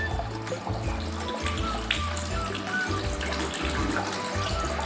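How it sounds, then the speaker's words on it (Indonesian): Tap water runs steadily into a sink, splashing and shifting as hands rinse beneath it, close and fairly loud. "Bersihkan tangan dengan air."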